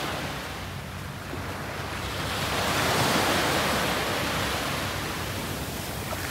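Sea waves wash steadily onto a beach at Phu Quoc, a broad continuous surf roar that swells slightly in the middle, with some wind noise and no voices.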